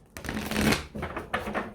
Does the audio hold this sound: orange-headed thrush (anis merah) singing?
no